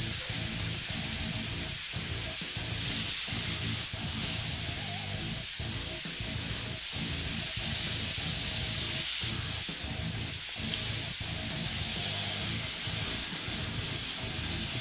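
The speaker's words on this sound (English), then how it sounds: "Now because I'm spraying so little amount of it" Paint sprayed in short, light bursts, a steady close airy hiss with many brief pulses and no talk.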